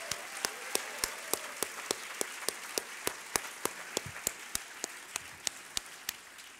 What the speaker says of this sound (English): Another round of applause for all of our poetry finalists.